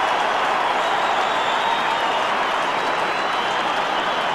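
An Australian football stadium crowd roars after a St Kilda goal, a loud, sustained wash of cheering and clapping that holds steady throughout.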